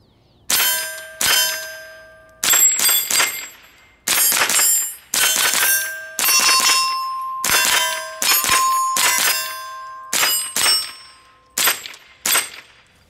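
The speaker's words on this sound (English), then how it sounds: "we have some steel plates. I'm gonna shoot the 8-inch plate." A Tippmann M4-22 rifle fired at steel plates 50 yards away, with a dozen or so sharp shots, each followed by a bright ringing clang that decays over about a second, some in quick pairs and some spaced apart.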